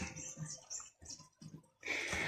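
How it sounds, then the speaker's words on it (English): Water from a village hand pump pours into a container in bursts, splashing in uneven pulses that break off briefly, then a louder steady gush at the end. "The water's filling up, but we're getting some reserves just in case."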